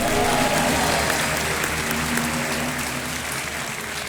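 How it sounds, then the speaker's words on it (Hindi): A TV quiz show studio audience applauds a contestant's correct answer on Kaun Banega Crorepati, with a full, steady wash of clapping over a low music bed. "तालियां बजाएं इनके लिए"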